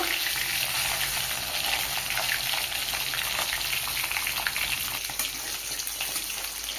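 A katla fish head fries in hot white oil in a kadai, giving a loud, dense, unbroken sizzle that crackles evenly throughout with no voices.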